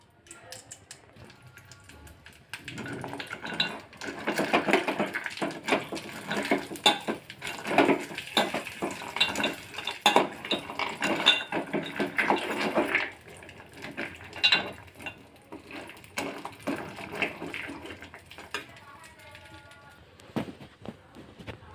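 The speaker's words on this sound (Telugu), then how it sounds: "నెయ్యిలో డ్రై ఫ్రూట్స్ని బాగా రోస్ట్ చేయండి." Dry fruits roast in ghee in a bowl while a spoon stirs them, giving a long run of busy metallic scraping and clinking, close and fairly loud, thinning out toward the end.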